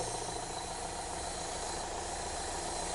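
A Land Rover Freelander diesel engine idles steadily at slightly raised revs, a constant low rumble and hiss with no change in pitch and no voices.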